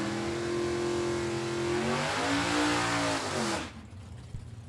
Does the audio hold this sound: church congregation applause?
no